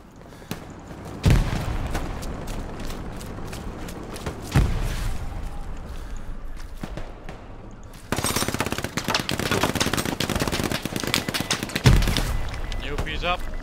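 Gunfire in the Hell Let Loose video game on a night map, with bursts of rapid automatic fire and a few heavier booms, mid-distance and steady, sometimes under voices talking over the action.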